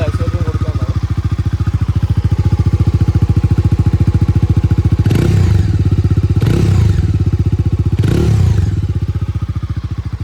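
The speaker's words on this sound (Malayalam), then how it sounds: "ഇനി നമുക്കിതൊന്ന് ഓൺ ചെയ്ത് ഇതിൻ്റെ എൻജിൻ എക്സോസ്റ്റ് നോട്ടൊന്ന് കേട്ട് നോക്കാം." A 2024 Bajaj Dominar 250 motorcycle idles with a steady, thumping exhaust note, close and loud, with three short throttle blips raising the engine pitch midway.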